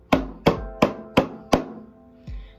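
A hand drum struck with the palm flat in the middle of the head gives deep bass thumps: five firm, evenly spaced hits, then a sixth softer one after a short pause.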